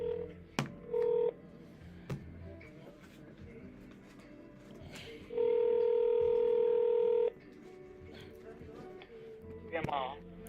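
Telephone dialing tones from a studio phone in a radio studio: a short steady tone burst, then a longer sustained one a few seconds later, with people talking and other studio noise in between.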